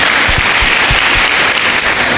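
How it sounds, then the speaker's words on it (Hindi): Loud, dense applause from an audience at a devotional talk, a steady wash of many hands clapping together without pause, close and full for the whole stretch. "ताली बजा के धन्यवाद देते हैं।"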